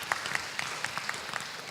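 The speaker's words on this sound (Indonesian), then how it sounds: "Tepuk tangan untuk beliau." An audience at a national seminar gives faint, distant applause, a thin wash of clapping with a few sharper claps, heard alone without talk.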